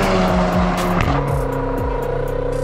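Cars race at full throttle around a racetrack during an amateur street-style race, engines rising and falling in repeated revving sweeps as they pass close by, loud and continuous.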